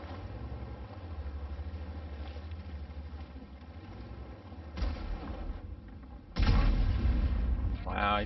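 Tank cannon fire in World of Tanks from a Tier IX T30, a deep booming shot bursting out over a low rumbling engine drone, with a smaller thud before it, while a voice talks over the game.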